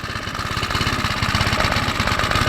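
A Qualcast Commodore 14-inch cylinder lawn mower engine idles steadily close by, with a continuous rapid putter and no talking.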